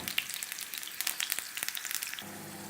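Chopped garlic frying in hot oil for a tadka for rice, a steady close sizzle with crackling pops and no voices.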